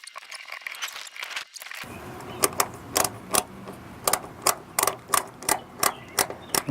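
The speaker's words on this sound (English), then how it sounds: "See if we can hand start these screws. Get all 4 of them hand started." Screws being hand-started into a WeatherTech mudflap on a 2018 Chevrolet Silverado, giving a steady series of short, close, crisp clicks and ratchet-like ticks in a regular rhythm after some brief rustling.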